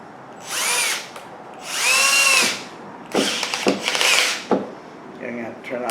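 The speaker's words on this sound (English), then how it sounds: "Now we can put it in the drill bit. I mean in the drill." Power drill spinning into wood with a Harbor Freight pocket hole jig; two sustained whining bursts of the drill motor, then rougher grinding, clattering bursts as the bit bites, with someone speaking between.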